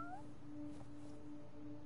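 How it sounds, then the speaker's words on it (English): Cat meowing in an Ultra Street Fighter 4 video game cutscene, a single short, faint meow at the start followed by quiet background tones. "Naughty kitty."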